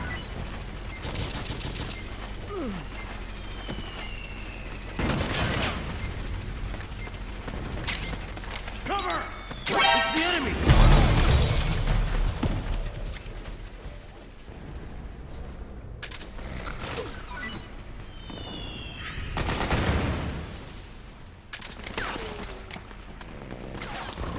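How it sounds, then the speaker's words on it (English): Suppressing gunfire in the video game Metal Gear Solid 4, with bursts of shots and impacts scattered through a busy battle mix, loudest around the middle, under shouted voices and other game sounds. "Suppressing fire!"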